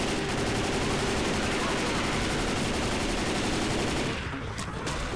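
Sustained automatic gunfire in the zombie shooter game Left 4 Dead 2: dense, loud, rapid bursts that fill the whole stretch before thinning slightly near the end.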